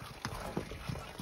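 Horse hooves clip-clop in a few spaced, fairly close strikes along a rough road in snowy Kufri near Shimla, with faint background noise and no talk.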